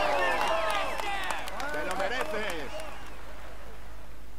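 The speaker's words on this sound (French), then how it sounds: "Allez, on l'applaudit bien fort." A crowd at the Tour de France finish on the Champs-Élysées claps and cheers for a cyclist, the applause spread and steady under a loud announcer's voice, then thinning as the talking continues.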